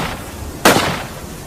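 A single sharp gunshot effect rings out abruptly, a loud close bang with a brief ringing tail that fades within half a second over a quiet background.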